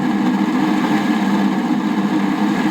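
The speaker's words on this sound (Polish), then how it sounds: "silnik tej pompy przed demontażem na chwilkę podłączyłem do zasilania na zmniejszonym napięciu" The electric motor of a 1978 Ola water pump runs on reduced voltage, giving a steady, even hum with a low buzz that holds at a constant level, with no voices.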